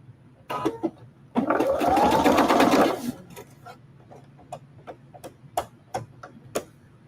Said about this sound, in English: And stitch the inside of the sleeve.